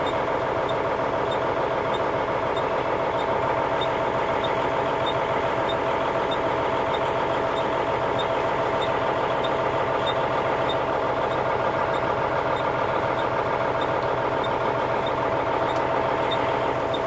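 A Volvo truck engine idles close by with a steady, droning hum and a faint regular ticking, unchanged for the whole stretch and with no talking.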